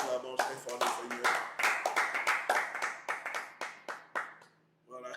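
A church congregation claps loudly in praise of the Lord, a dense burst of rhythmic hand claps that continues for several seconds and then thins and stops.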